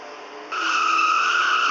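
Race car tires screeching in a NASCAR video game, a steady high-pitched skid that swells sharply partway through and holds loud to the end, with no crash impact audible.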